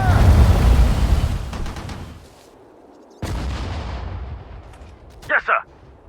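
Battle sounds in the WWII strategy game Sudden Strike 4, with a heavy rumbling barrage of artillery and gunfire, a sharp loud blast midway and a short burst of shots near the end.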